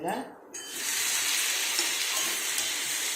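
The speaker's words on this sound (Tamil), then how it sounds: "ஓரளவுக்கு வதங்கின பிறகு நான் தக்காளியை சேர்க்குறேன்" Tomatoes hit a hot pan of sautéed onions and a loud, steady sizzle takes over, a constant close frying hiss that continues without pause.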